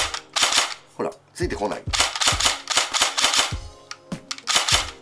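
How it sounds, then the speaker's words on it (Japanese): An S&T MK18 Mod.1 full-metal electric airsoft gun with an electronic trigger fires in rapid bursts and single shots, each a sharp close snap repeating at an uneven rhythm, with someone speaking briefly between shots. "発射音に関してはこのモデルに関して非常に問題ないんじゃないかなと"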